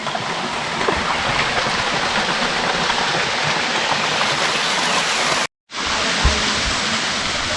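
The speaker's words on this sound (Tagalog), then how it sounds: "Running water yan mga sadik." Constant broadband rush of flowing water at Anyap Falls in Tanay, Rizal, loud and close, like a stream running over rocks, with a brief cut-out near the end.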